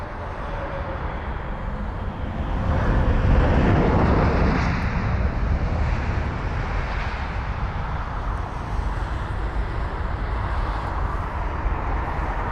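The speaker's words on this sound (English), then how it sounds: "BA118 is going to be our next arrival, which is this British Airways one mult sticker aircraft, and it's the Boeing 777-200ER" A British Airways Boeing 777-200ER lands at London Heathrow, its broad engine roar swelling and then settling into a sustained rumble with wind noise, heard at some distance and without talk.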